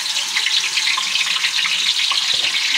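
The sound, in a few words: water poured onto fried onions in a pot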